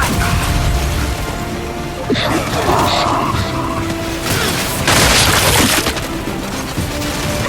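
Frag grenade blasts and chaotic combat in Gears 5, loud booms and crashes bursting repeatedly over dense, gritty action noise.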